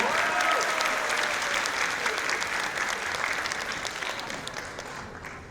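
Audience applause at a Korean-language speech contest for foreign speakers at Kyung Hee University, a dense sustained crowd clapping throughout that tapers slightly toward the end.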